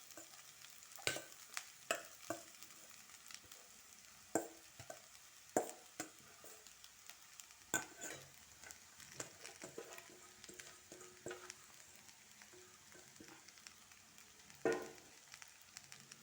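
Cucumber poha being fried in a pan, a faint background sizzle punctuated by irregular scraping taps of a spatula as it is stirred.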